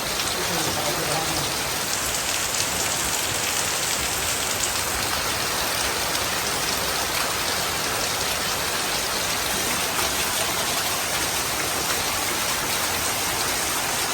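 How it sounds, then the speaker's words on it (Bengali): Heavy rain pours steadily outside a house, a dense, continuous wash of close, loud noise that never lets up, with no voices. "বৃষ্টি টানছেই না"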